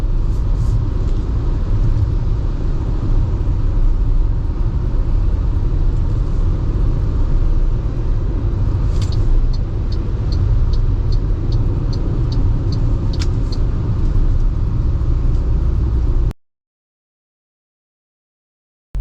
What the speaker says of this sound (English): At 100 kph, you don't get a lot of wind noise. You get more tire noise than wind noise.